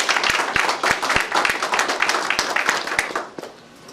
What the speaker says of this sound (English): So if we can just give them a hand of a clap as well.